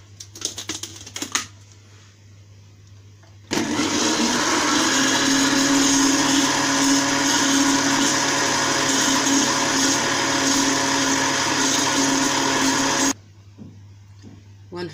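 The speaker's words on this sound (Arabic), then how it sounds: "بعد كده هحط عليه الزبادي، وهنكمل ضرب، واثناء ما هو بيتضرب انا هنزل عليه الزيت." An electric mixer beats cake batter with yogurt and oil, running as a steady, loud whir for about ten seconds, with handling clatter and quiet stretches before and after.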